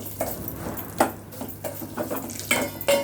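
Vermicelli frying in a pan for kheer, stirred with a spoon: light clinks and scrapes of metal against the pan over a soft sizzle, in a few irregular strokes.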